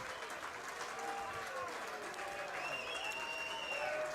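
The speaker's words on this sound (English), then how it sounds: "They're coming off to a warm applause." Spectators at an Adelaide amateur Australian football match applaud as the team leaves the ground, a steady, faint spread of clapping from a crowd at a distance, with a commentator's voice faintly underneath.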